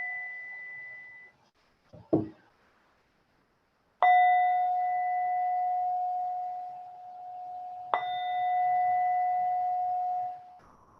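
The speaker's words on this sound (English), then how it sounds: "And so with the sound of that bell" A mindfulness meditation bell is struck twice, each a bright ringing tone that sustains and slowly fades over several seconds in a quiet room, preceded by a fading earlier ring and a short soft clunk.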